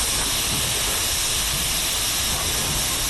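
A steam locomotive in Train Simulator Classic releases a steady, loud hiss of steam mixed with rail rumble, constant and unbroken throughout, with no voices.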